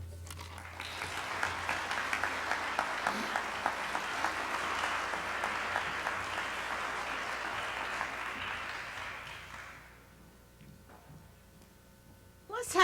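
An audience at an alumni recognition ceremony applauds its honorees, a dense, steady clapping that goes on for about ten seconds before fading, with a voice speaking near the end.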